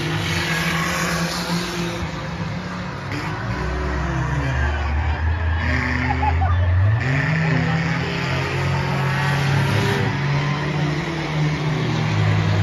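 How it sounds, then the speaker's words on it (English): Race cars in a chain race at Bowman Gray Stadium roar continuously around the track, with engines rising and falling as they pass, loud and steady throughout. "Ben Behringer out front with Tyler McDonald driving the caboose"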